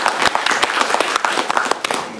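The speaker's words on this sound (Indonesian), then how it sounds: "tepuk tangan boleh yang meriah supaya semangat kita" Applause from an audience at a land-affairs and spatial-planning office event, a dense run of scattered claps at moderate loudness throughout, with no talk over it.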